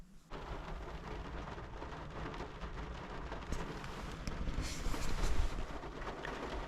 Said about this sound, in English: It's always raining when I come here.